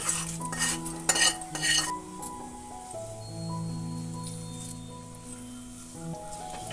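A spoon clinks and scrapes against a dish a few times early on while stirring tempering into tomato pickle, then fades under a sustained musical backdrop.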